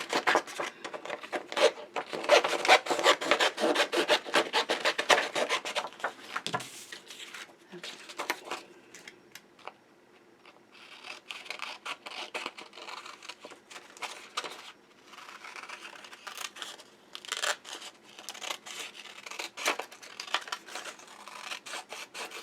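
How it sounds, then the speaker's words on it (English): Scissors cut across clipboard material to shorten it, making a long run of close, rapid snipping and rasping cuts that thin out and pause midway before resuming more sparsely. "So I'm just going to cut across this way to make it shorter."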